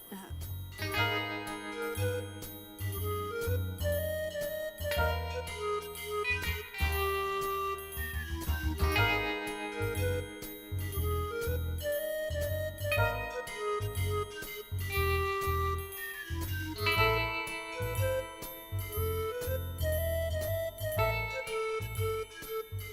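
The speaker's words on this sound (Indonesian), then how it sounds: "ini mana si Jujun nggak diangkat-angkat lagi gue telepon" A mobile phone plays its ringtone for an unanswered call, a busy musical melody with a steady beat that repeats continuously and fairly loudly without stopping.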